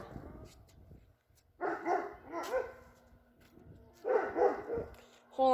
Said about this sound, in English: the dogs are barking at a neighbor